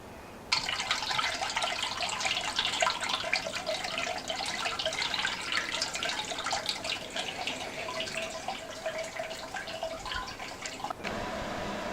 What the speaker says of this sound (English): Here we're now siphoning the wort into the boiler.